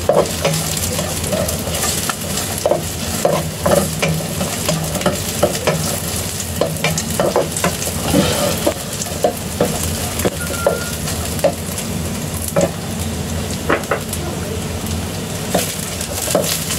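Chinese sausage or chorizo is stir fried with garlic in a loud, steady sizzle, with frequent spatula scrapes and taps against the pan throughout.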